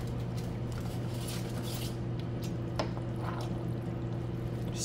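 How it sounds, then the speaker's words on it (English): Juice pours into a pot of spaghetti and meatballs as a soft, faint trickle over a steady low hum, with no talking. "I'm gonna put some more juice in there just for the sake of making sure that we have enough."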